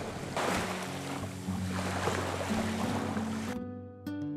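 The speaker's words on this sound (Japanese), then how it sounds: "綺麗な海は公園の自慢の一つです。" Waves wash steadily against the seafront shore of Gappo Park, a former velodrome site, heard under a gusting breeze, with faint tonal hums beneath and a near-silent tail at the end.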